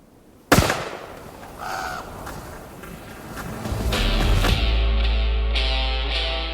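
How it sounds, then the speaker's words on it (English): A single loud rifle shot cracks sharply at an elk during a hunt, echoing briefly before steady wind and outdoor noise fill the rest. "I'm going to take the shot."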